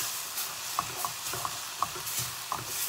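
Spice powder is stirred and sautéed in a pan for paneer curry, soft steady sizzling broken by a series of light, evenly spaced spoon scrapes and taps, close up with no talking.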